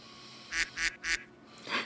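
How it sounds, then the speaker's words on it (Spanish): A duck in The Sims video game gives three quick, evenly spaced quacks, then a fourth after a short pause, sitting moderately close over a faint background. "Ya maten ese pato."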